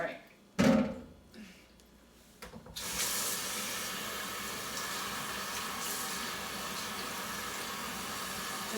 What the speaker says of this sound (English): Just rinsing it off inside the cavity.